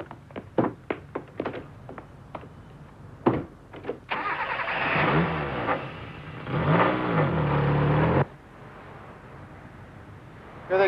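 A car engine turns over after a few clunks and door thuds, then revs loudly and steadily for a few seconds before cutting off, close by with no talk.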